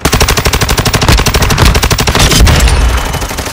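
Rapid automatic gunfire in an online trios match of a Call of Duty-style video game, loud, close and nearly continuous bursts with steady rhythmic shots that ease off slightly at the end.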